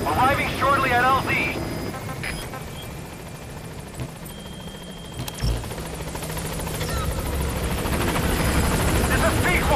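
The Pequod helicopter arriving at a landing zone in Metal Gear Solid V: a steady rotor and engine drone that builds gradually, with a radio voice speaking over it early on.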